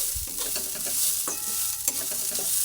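Gobindobhog rice frying in ghee in a pan for rice payesh, a steady soft sizzle with a few spoon scrapes, close and continuous, no voices.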